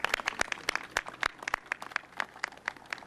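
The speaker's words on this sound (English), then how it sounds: "can we give Ms. Ross another round of applause for her courage?" Scattered, uneven clapping from an audience at a Prince George's County State's Attorney's Office event honouring Ms. Ross; sharp individual claps sound fairly close and thin out rather than swelling into full applause.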